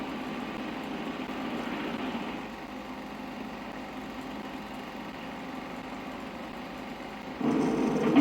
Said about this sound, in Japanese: アースアンカーの工事も最後の3段目の作業に入り、ボーリングマシーンが連続的に穴を開けている。